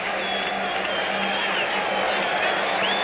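Crowd applause and cheering after the Bennie Briscoe vs Marvin Hagler boxing match, a steady dense roar of clapping and voices filling the arena for several seconds with no break.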